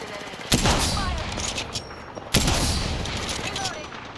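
Gunfire in the video game Apex Legends: two loud broadband shots or bursts about two seconds apart, each trailing into a sustained noisy rumble, with talk faintly underneath.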